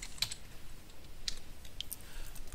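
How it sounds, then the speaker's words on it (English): Computer keyboard keys pressed for an undo shortcut in image-editing software: a few sharp, close clicks spaced irregularly over quiet room tone. "So I'm going to go ahead and type in Control Z, and that would be my undo."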